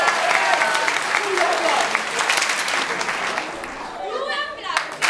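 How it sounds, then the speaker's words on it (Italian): Audience applause at a school year-end show, a loud burst of many hands clapping that gradually thins out, with voices talking and children's chatter coming through as it fades. "Grazie dell'applauso."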